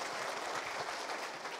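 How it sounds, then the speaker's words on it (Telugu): Dense applause from a rally crowd welcoming a speaker at a BRS political event, a steady wash of many clapping hands heard from a distance and fairly faint. "తమ్ముడు మహేష్ గారికి ముందుగా గట్టిగా చప్పట్లతో ఒకసారి స్వాగతం సుస్వాగతం"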